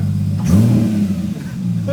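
Porsche Cayman with a FabSpeed exhaust, engine cold, blipped to roughly 2,200 RPM: a loud, close rev that swells from a steady idle, holds briefly, then settles back with a small pop.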